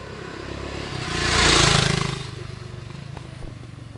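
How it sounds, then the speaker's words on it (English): A 2007 BMW G650 X-Challenge single-cylinder motorcycle on its stock exhaust, a quiet steady engine note that swells briefly as if passing or revving, then settles back to a low idle. "Stock exhaust, so it's whisper quiet"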